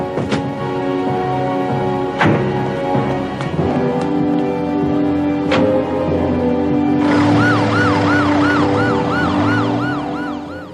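An ambulance siren in the anime Hunter x Hunter wails loudly and continuously, rising and falling in a fast repeating yelp over road noise, with a few sharp clicks early on.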